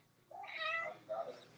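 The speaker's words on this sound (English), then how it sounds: "Look at this fat kitty." A house cat gives a drawn-out meow followed by a shorter second meow, close and clear indoors against a quiet background.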